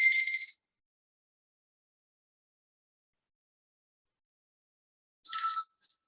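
A meditation bell during a yoga session rings twice, two short bright chimes about five seconds apart with silence between them, close and clear with no talking.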